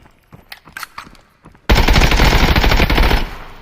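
5.56x45 FMJ rounds fired in the Contractors game at an armored player: a few scattered shots and footsteps, then a loud, unbroken full-auto burst lasting about a second and a half before cutting off.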